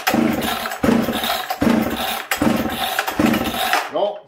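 An old chainsaw is started with about five rope pulls, each a loud, close rasping crank surge in a steady rhythm, but the engine does not catch and fades out at the end.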